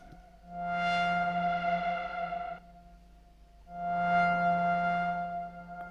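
Two long sustained synthesizer lead notes, each swelling in and trailing off with a wide, washy reverb tail from a Big Sky reverb pedal, separated by a brief quieter gap.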